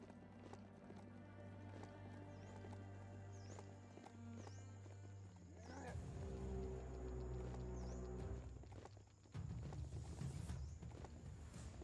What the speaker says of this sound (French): J'ai l'impression de chevaucher un cheval squelette.